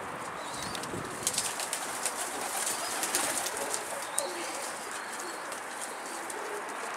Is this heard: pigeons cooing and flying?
yes